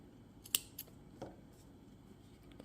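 Scissors snip through crochet yarn while finishing a small crocheted carrot keychain: two or three quick, crisp cuts close together near the start, then quiet handling noise, with no talking.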